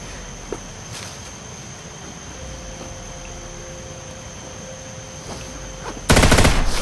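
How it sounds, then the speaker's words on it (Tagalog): A long stretch of quiet outdoor ambience with a faint click gives way to a sudden, loud burst of rapid gunfire near the end, close by and continuing to the cut. "May bumabaril."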